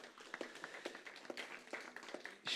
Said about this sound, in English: Yep, you can clap.